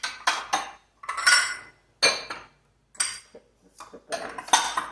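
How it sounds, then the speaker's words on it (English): Glass bowl containers clinking and clattering as they are handled in a kitchen cabinet, a series of sharp, close knocks and rattles in separate bursts with short pauses between. "I have a set of glass bowl containers."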